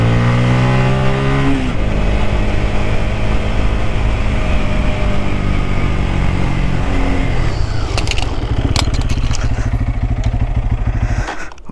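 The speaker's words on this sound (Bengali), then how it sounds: "60 স্পিডে হার্ড ব্রেক ধরে দেখবো দুইটা বাইকের ব্রেকিং ডিস্টেন্স কত" Two motorcycles, a Yamaha FZ25 and a Pulsar N250, run at about 60 km/h in a hard braking test, with loud continuous engine drone and rising, shifting engine tones, then rougher noise with sharp clicks near the end.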